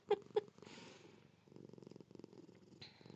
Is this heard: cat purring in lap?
yes